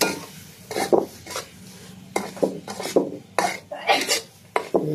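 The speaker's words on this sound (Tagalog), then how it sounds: "So yun yung ating brown sugar, pulang asukal. Haluin na natin siya." Brown sugar is stirred in a pot for biko, with bursts of gritty scraping and rasping strokes coming in an uneven rhythm, loud and close, with short pauses between.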